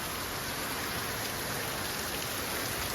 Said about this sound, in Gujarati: જોઈ લો વરસાદ બહુ આવી રહ્યો છે.